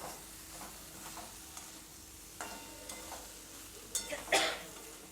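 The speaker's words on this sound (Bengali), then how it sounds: "আবারও একটু নেড়েচেড়ে নেব আমি" Flat beans with turmeric powder are stirred in a pan over a soft sizzle, with a few scraping strokes and a louder metallic scrape near the end, nearby and wordless.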